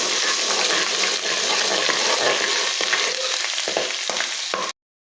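Ginger-garlic paste frying in about two spoons of oil left in a pan after cooking egg koftas, a loud, close, continuous sizzle with spoon-stirring scrapes toward the end before it cuts off abruptly.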